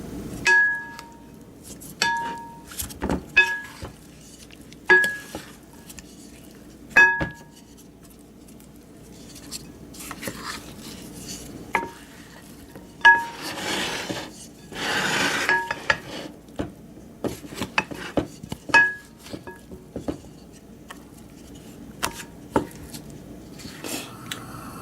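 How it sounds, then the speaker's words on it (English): Oxtails being tossed in flour inside a crock pot, giving scattered soft knocks, rubs and scrapes with a few sharper clinks, close and fairly quiet, with no talking. "now I'm going to toss these really good to get them all coated"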